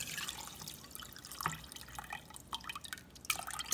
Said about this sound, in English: We're just going to go ahead and pour the water over the sugar.